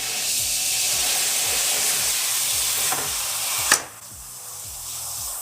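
Meat and vegetables sizzle and hiss in a full pan on a budget home stove, with a steady frying crackle, repeated scraping stir strokes and a sharp clatter near the end.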